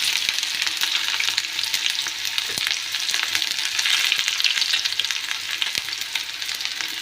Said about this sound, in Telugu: ఆయిల్ హీట్ అయ్యాక ఆనియన్స్ వేసుకోవాలండి.